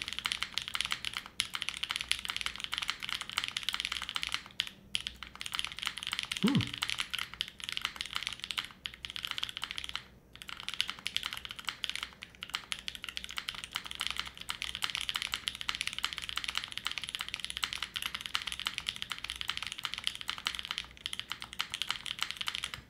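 Typing on a custom Alas 60 mechanical keyboard produces rapid, close, deep-toned key clacks in a steady flowing rhythm, with short pauses and a single heavier spacebar thud.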